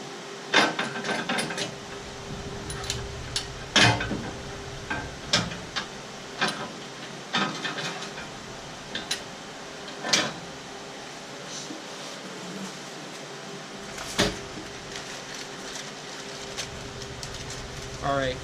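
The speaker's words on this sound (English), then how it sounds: "we're going to go ahead and we're going to get this thing bolted up" Bolts are run in by hand to fit a transmission skid plate under a Jeep Wrangler JKU, giving scattered sharp metallic clicks and ratcheting ticks over a quiet background with a faint steady tone.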